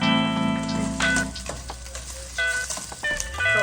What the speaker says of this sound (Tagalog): ang next natin ang gigisa ay ang kamatis